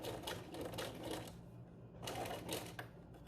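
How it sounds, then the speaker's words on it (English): A sewing machine runs a zigzag stitch over elastic on a fabric face mask, its needle chattering in fast rhythmic bursts with a brief pause midway, fairly quiet and close. "we're gonna do a zigzag stitch over the elastic here for a minute"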